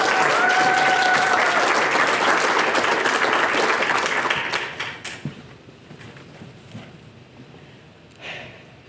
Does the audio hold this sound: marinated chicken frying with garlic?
no